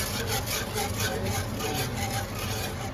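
A utensil scrapes a pan while Mongolian beef sauce cooks, making continuous rough, rhythmic scraping strokes up close with no pauses.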